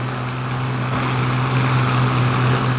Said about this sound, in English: They will feather one propeller, allow another to windmill, and fly the plane on the other two engines only.